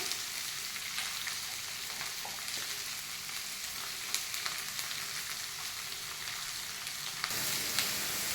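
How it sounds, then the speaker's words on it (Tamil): Onions frying in a pan for a Kerala-style Malabar chicken biryani, a steady dense sizzle and crackle throughout, close and fairly loud with no talking. "ஆனியன் போட்டு நல்லா ப்ரௌன் ஆகிற வரைக்கும் வறுத்துட்டு"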